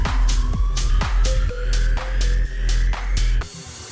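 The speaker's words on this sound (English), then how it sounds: "I'll just spray some oil. This is just some cooking oil, the cheapest one I can get." Several short bursts of cheap cooking oil sprayed onto wooden boards during outdoor tile laying, each puff a brief broadband hiss in a steady rhythm over a low background hum, close and fairly loud.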